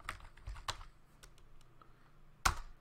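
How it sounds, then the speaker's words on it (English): Quiet typing on a computer keyboard while entering commands in an openSUSE Linux shell: a few scattered key clicks, ending with one sharper, louder keystroke. "And next we're going to type help."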